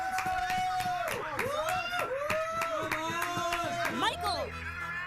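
A crowd at a baseball game claps in rhythmic bursts with excited chatter mixed in. Tonal whistle-like sweeps repeat over the crowd noise.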